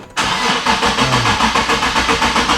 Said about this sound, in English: Let's pray to God that this car starts.